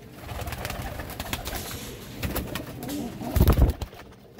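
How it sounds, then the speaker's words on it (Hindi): Pigeons of fancy breeds such as Imam Deen pairs coo and flutter in a loft, with a steady murmur of soft calls throughout and a louder, deeper burst of cooing near the end. "इन कबूतरों के बारे में।"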